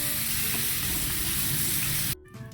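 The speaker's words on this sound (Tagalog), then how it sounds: "haluin lang natin" Squid adobo with garlic, ginger and fish sauce sizzling hard in a frying pan as it is stirred, a dense loud hiss that cuts off abruptly near the end, leaving faint quiet clinks.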